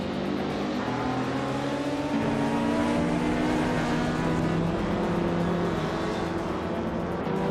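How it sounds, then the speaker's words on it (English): A 2001 BMW Z3M, the slowest class in a racing video game, launches from pole at the race start. Its engine holds a loud, steady, close drone with rising and falling harmonic tones throughout, and no one talks. "Nuts is kicking off from pole in the 2001 BMW Z3M."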